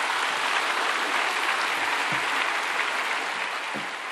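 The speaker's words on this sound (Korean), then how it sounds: "박수로 환영하겠습니다" A large church congregation claps to welcome a member who comes forward to give a testimony before a baptism. The applause is thick, even and continuous throughout.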